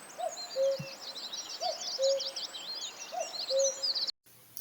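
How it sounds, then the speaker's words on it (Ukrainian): A common cuckoo calls repeatedly in a soft, low two-note pattern, fairly distant, over a busy background of high chirping songbirds in an outdoor setting; the recording cuts off abruptly near the end. "Вірно, пташка зазуля."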